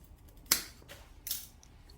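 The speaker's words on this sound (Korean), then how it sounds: "저는 여기쯤, 이쯤 싹둑 자를게요." Scissors cut through a pelargonium (geranium) stem during spring pruning with one crisp, close snip, followed a moment later by a softer second click in a quiet setting.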